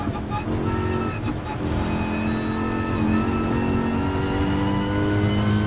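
A race car in the Gran Turismo Sport video game drives on a wet track, its engine droning and shifting pitch steadily as it accelerates, loud and continuous.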